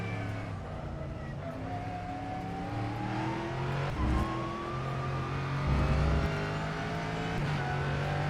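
A race car engine in a racing video game hums steadily while revving through rising gear pitches, held at a moderate level with slight swells and no clear talk over it.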